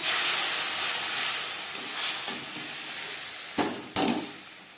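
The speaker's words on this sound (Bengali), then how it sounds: "দিয়ে দেব আদা, রসুন ও কাঁচা লঙ্কার পেস্ট।" Ginger, garlic and green chili paste sizzles in a little oil for chicken vegetable soup, a loud steady hiss that slowly fades, broken near the end by two sharp clatters.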